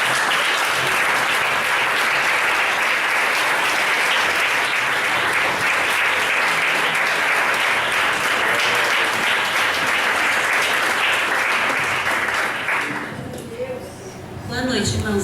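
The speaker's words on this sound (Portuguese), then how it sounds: "vamos aplaudir o Senhor" A church congregation at a family service gives sustained, loud applause for about thirteen seconds, then the clapping fades out and a voice continues alone.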